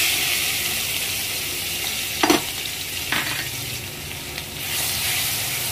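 Garlic and green chili tempering frying in mustard oil, a steady close sizzle with two brief louder bursts as ingredients hit or get stirred, no voices.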